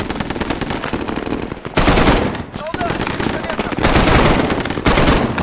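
Dense bursts of automatic and rifle gunfire from a war video game's Purgatory campaign, a sustained loud fusillade with overlapping shots, near and distant, swelling in heavier waves with a faint voice underneath.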